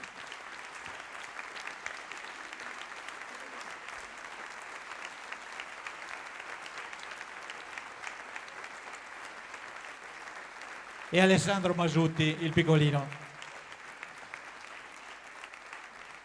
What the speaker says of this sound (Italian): L'applauso potrebbe continuare tutta la notte